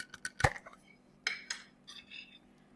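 A teaspoon scoops Reine de Dijon mustard from a jar for a Caesar salad, making a handful of sharp metallic clinks and taps, one louder knock, then softer scraping, close and quiet.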